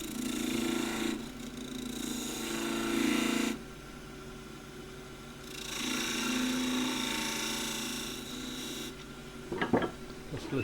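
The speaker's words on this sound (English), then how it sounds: "Just little arcing cuts with the gouge." Gouge making small arcing cuts on a box elder burl spinning on a wood lathe, a raspy cutting hiss coming in two sustained bursts over the motor's hum, followed by a brief knock near the end.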